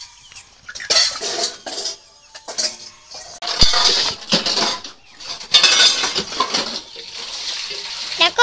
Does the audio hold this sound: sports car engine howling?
no